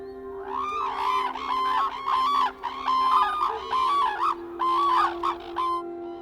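Cranes in the Japanese countryside give a series of loud, trumpeting honks in repeated bursts, several calls overlapping over a quiet background with no voices.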